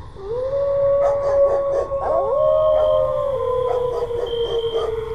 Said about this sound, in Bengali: কোথা থেকে ছুটে এলো অজস্র শেয়াল কুকুরের ডাক।